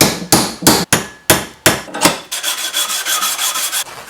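Pins being hammered out of a Bowie knife handle: about seven hard, ringing metal strikes at an uneven pace, then a quicker run of lighter, rapid taps, all loud and close.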